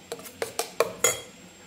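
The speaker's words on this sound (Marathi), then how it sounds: "याच्यामध्ये आपण हे टोमॅटोचे जे आपण वाटून घेतलेलं होतं जाडसर प्युरी हे टाकू आणि छान मिक्स करून घेऊ" A spoon clinks sharply against a bowl about five times in quick, uneven succession while thick tomato puree is mixed into whisked curd for a mutton dish.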